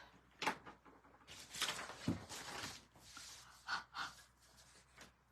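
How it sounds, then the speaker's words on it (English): Short, breathy huffs blown close onto card stock to activate stamped ink while making a Stampin' Up Magical Meadow winter fold-out card, several soft puffs in quick succession. "So I'm just kind of breathing heavy on there"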